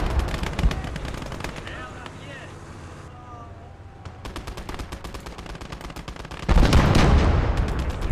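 Machine gun fire in a war strategy video game: rapid bursts of automatic shots, a pause filled with rumbling engine-like noise, then renewed heavy firing with a loud blast near the end, while a voice talks over parts of it.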